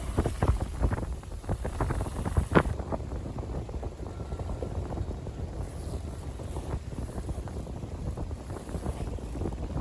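Wind buffets the microphone on a sailboat at sea as it strengthens, a steady rough roar with gusty crackles and a few sharper knocks early on, with no voices.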